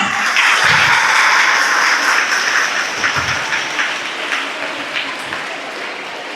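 Loud sustained applause from a school merit day audience, a dense roar of many hands clapping that peaks early and slowly tapers, with a few voices faintly underneath.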